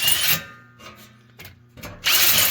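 A power drill whirs in short bursts, grinding burrs off a drilled metal hole during a generator interlock and inlet box install, with pauses and quieter scraping in between; no voices.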